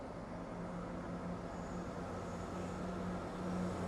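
A Cross Country Class 170 Turbostar diesel train at Derby station gives a steady low engine rumble and rolling rail noise, moderately loud and unbroken, with a faint higher whine and no talking.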